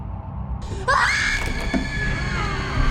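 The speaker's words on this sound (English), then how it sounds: "The girls start shouting to be heard," Shrill, high-pitched shouting breaks out after a muffled thump, voices raised and overlapping, loud and close.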